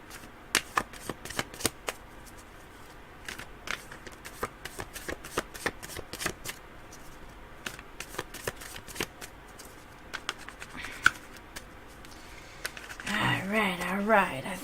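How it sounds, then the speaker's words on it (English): Tarot cards being shuffled by hand in a quiet room, giving close, crisp riffling and slapping bursts in irregular rhythm, with a longer, busier shuffling passage at the end. "Just shuffle for a little bit more because I have a feeling it's not shuffled well."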